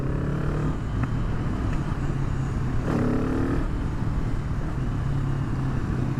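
A Kawasaki Z650 motorcycle with an Arrow exhaust and baffle fitted rumbles at idle, a loud, steady low drone with brief throttle blips swelling the exhaust note around the middle.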